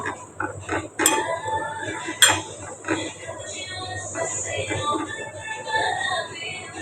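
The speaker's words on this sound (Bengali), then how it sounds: "সরিষার তেল দিয়ে আবার একটু মাখাবো" Prawn balachao bharta is mixed by hand with mustard oil in a kitchen, with a couple of sharp clinks of metal on a dish and soft, irregular mixing and scraping noises throughout.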